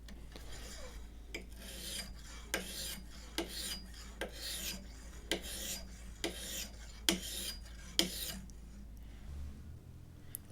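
An axe blade is sharpened on a stone held in a jig, about a dozen rhythmic rasping strokes back and forth, close and fairly quiet, with no talk.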